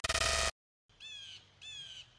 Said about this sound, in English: Shut up, bird. Bird, Mr. Bird, please hush.